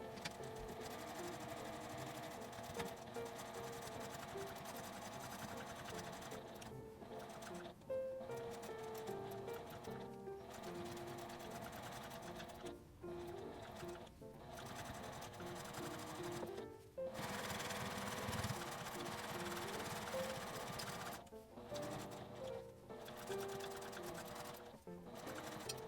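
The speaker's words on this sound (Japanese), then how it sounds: "返し口のところから端ミシンを1周かけます。" A sewing machine runs almost continuously, edge-stitching a fabric face mask, its rapid mechanical whirring and clatter broken by a few brief pauses, close and steady throughout.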